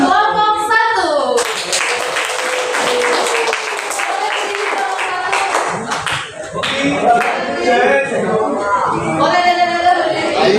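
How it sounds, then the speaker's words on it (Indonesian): A group in a teachers' coaching workshop claps hands in lively, sustained applause with scattered voices, cheers and chatter mixed in throughout. "Berikan tepuk tangan untuk kelompok 1."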